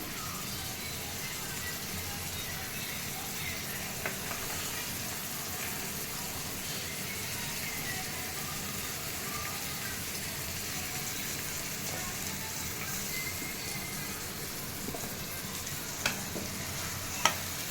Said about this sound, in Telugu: ఇప్పుడు మనం అందులో ఉల్లిపాయలు, మన వెజిటబుల్స్ అన్నీ వేసుకుందాం.